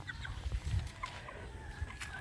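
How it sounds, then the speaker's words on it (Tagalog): Three gamefowl roosters of the Mitra Blue Muff and Capistrano Boles breeds, kept side by side, make short scattered calls and clucks at close range over a busy outdoor background. "So, yun ang aking tatlong tandang magkakadikit para madali ko silang nahawakan."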